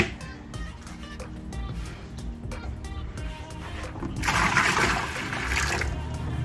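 Water poured onto vermiculite in a homemade reptile egg incubator, with light handling clicks and taps before a louder splashing pour in the last couple of seconds.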